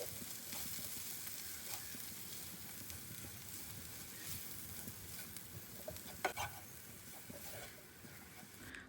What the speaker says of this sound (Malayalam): ഇനി ഇതിലേക്ക് പൊടികളായിട്ട് മുളക് പൊടിയും മഞ്ഞൾപ്പൊടിയും ചിക്കൻ മസാലയും കുറച്ച് ഗരം മസാലയും കൂടി ചേർത്ത് കൊടുത്തിട്ട് നന്നായിട്ടൊന്ന് വഴറ്റിയെടുക്കുകയാണ്